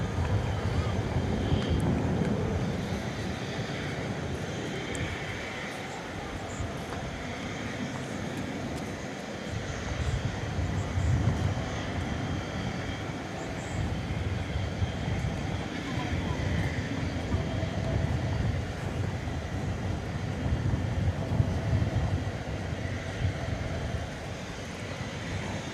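A Piedmont replica livery airliner takes off at DFW, its broad engine roar steady and loud throughout, mixed with wind buffeting on the microphone.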